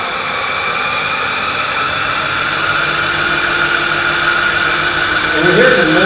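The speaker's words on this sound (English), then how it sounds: "you hear the motor is beginning to vibrate a little bit" An electric bike motor running on an Adaptto controller at about 50 km/h gives a steady, close hum and whine with broadband road rush. A rougher vibration builds toward the end.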